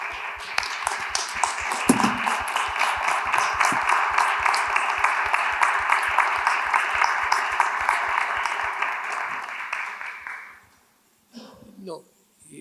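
An audience applauds panel guests at a literary tribute event, sustained dense clapping for about ten seconds that then stops abruptly, followed by brief quiet murmurs.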